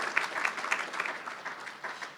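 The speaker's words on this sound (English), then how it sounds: "I'd like to give an applause to everybody and thank you for sponsoring this event." Applause from a dinner audience at a charity event, a soft, fairly distant patter of many hands clapping steadily for a couple of seconds.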